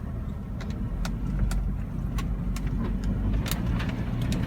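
A stock Suzuki Carry mini truck in four-wheel drive churns through mud and puddles, its engine a steady low rumble, with intermittent clicks and splashes over the top.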